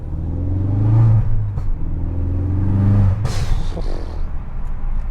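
A 2016 Ford Focus RS hot hatch revs its engine in two throaty surges and then pulls away, the rumble fading off with a brief whoosh.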